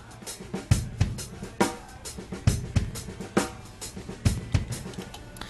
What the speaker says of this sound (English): Now here is the complete sound of the drums.